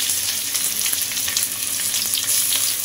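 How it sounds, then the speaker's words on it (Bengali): Chopped onion with ginger and garlic frying in hot oil for egg chowmein, a loud dense close sizzle with scattered crackles and pops continuing without pause. "দিয়ে হালকা করে পেঁয়াজটা ভেজে নেব।"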